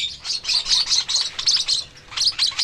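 A lovebird chick in a breeding cage chirps in rapid close bursts of high shrill calls, a pause, then another run of chirps, loud and alone.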